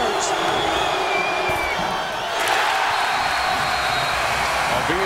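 A college basketball crowd roars in Alumni Memorial Fieldhouse during a Xavier at St. Joe's game, a dense sustained cheer with whistles and whoops that swells again partway through, talk mixed faintly beneath it.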